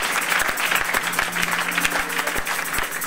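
Church congregation clapping together at the close of a worship service, a steady, dense wash of applause with sharp individual claps standing out, fairly close and continuous throughout.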